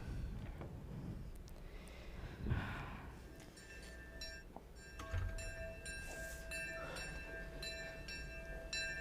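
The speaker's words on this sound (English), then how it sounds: "What time is the train supposed to arrive? Any minute now." A train arrival effect plays during a stage drama, with a steady rumble of rolling railcars, a horn-like tone and ringing bell tones building over several seconds at moderate volume.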